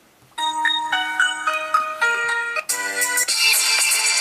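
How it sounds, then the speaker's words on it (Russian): A Huawei Ascend P1 smartphone plays its ringtone through the speaker as a clear, bright electronic melody of bell-like notes, starting abruptly and becoming fuller and louder toward the end. "Так, рингтон, мелодия."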